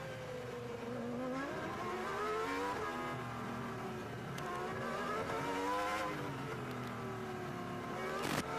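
Formula 1 car engines at the 2002 Monaco Grand Prix revving hard through the street circuit, a loud continuous high-pitched wail rising and falling as cars accelerate and back off the throttle around slow corners.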